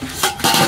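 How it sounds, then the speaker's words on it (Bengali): A cooking pot lid lifts off during home baking of a Christmas cake, giving a couple of brief metallic clinks and scrapes close by, with no voices. "মিনিট হয়ে গেছে, এবার আমি ঢাকনাটা তুলে দেখব"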